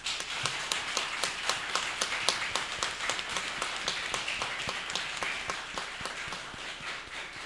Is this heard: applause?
yes